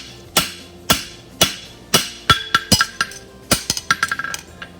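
Hammer blows on a hot steel horseshoe on an anvil while forging a heel caulk, the hammer edge struck in fullering blows: a series of sharp metallic strikes, slow and evenly spaced at first, then quicker clusters with ringing tones, close and loud.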